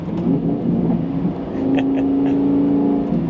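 Lamborghini Gallardo engine with E-Gear transmission, a steady close, loud droning rev that rises into a sustained tone, with no talking.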